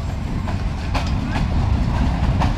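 The Rupsha train rolls across the dual-line Hardinge Bridge with a loud, steady rumble and rattle, marked by faint rhythmic wheel clacks.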